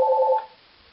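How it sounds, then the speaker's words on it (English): A short electronic telephone ring tone sounds once, a clean two-pitch buzz lasting under half a second before cutting off to near silence. "When a phone call comes in for a particular customer"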